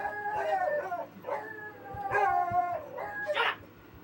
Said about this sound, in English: I thought I heard the dog bark.